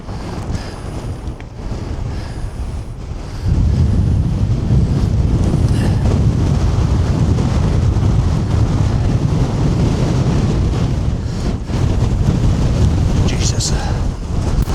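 Strong wind on a Scottish mountain hike buffets the microphone in heavy, roaring gusts that grow louder partway through, with a voice faintly audible at times.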